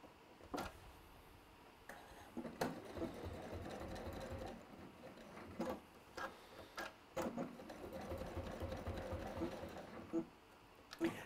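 A sewing machine stitches through several layers of fabric in quiet, steady runs, each broken by short pauses and sharp clicks.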